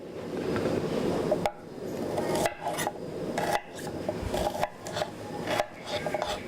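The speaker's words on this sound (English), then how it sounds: "So starting cutting the shallot" A knife slices through shallots on a cutting board, a steady rasping scrape punctuated by several sharp chopping knocks, close and moderately loud.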